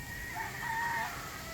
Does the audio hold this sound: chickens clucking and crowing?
yes